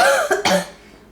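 Two quick, raspy coughs in rapid succession, close up, trailing off into quiet.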